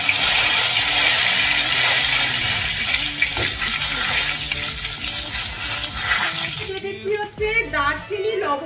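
Dried red chillies and whole cumin sizzling in hot white cooking oil, a loud steady hiss and crackle that fades near the end, with a voice and background music over it.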